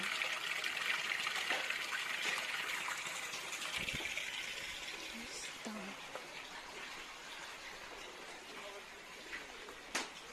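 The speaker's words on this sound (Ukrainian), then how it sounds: "А ось джерело, звідси беруть воду." Water trickling from a natural spring where people collect water beside a lake, a soft continuous dribble fading gradually, with faint voices and a sharp knock near the end.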